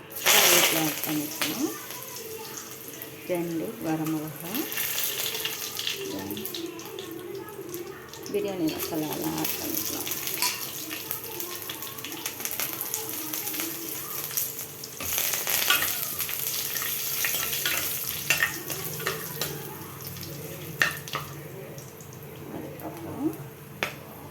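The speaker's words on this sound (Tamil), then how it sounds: "வெங்காயம் நல்லா ஃப்ரை ஆகிடுச்சு" Onions frying in oil with mustard seeds for tomato biryani, a continuous sizzle with crackles and occasional stirring, while a person talks over it.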